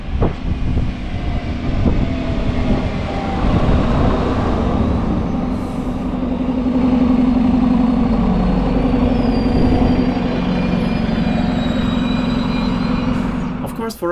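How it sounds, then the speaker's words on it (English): A Regio Shuttle (RegioSpider) diesel railcar pulls into a station in the Czech Republic with a steady low engine rumble and rolling noise, close and sustained, ending with a brief metallic clatter. "we will now take a look at the arrival of my train today, which is a Regio Shuttle"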